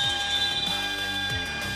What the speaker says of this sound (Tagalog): And that buzzer signals the end of the third quarter.